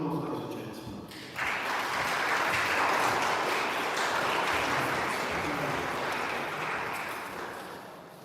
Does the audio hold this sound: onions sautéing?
no